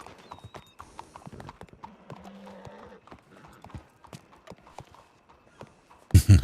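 Horse hooves clip-clop in a loose, uneven rhythm on a hard surface, with quiet background activity and a loud burst of noise at the very end.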